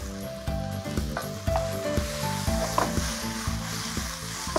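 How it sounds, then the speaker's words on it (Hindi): Garlic, ginger, cabbage and capsicum fry in a pan with a steady bright sizzle, overlaid by a repeating rhythmic clicking pulse throughout, close and continuous without talk. "इसको बस आपने खड़े खड़े फ्राई करना है"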